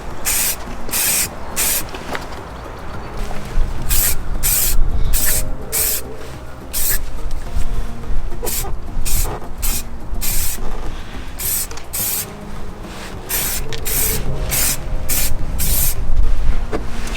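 Short bursts of aerosol lacquer hiss close by onto a Mk2 Ford Focus brake caliper, well over a dozen sharp sprays in irregular quick succession over a low background rumble.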